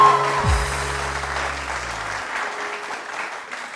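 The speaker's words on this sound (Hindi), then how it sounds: "जब हम कहें ना तालियां बजा तो जोर से बजा दिया करो।" A studio audience on a Pakistani TV morning show claps steadily as a short musical sting fades out beneath it. The clapping is dense and continuous, moderately loud, and eases slightly toward the end with no talking.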